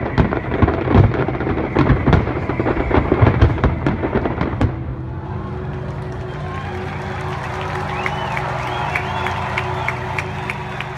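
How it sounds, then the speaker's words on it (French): Rapid bursts of a town fireworks display crackle and boom with a crowd audible, then the explosions stop and quieter murmuring and distant whistles continue. "qui était un très très beau feu d'artifice"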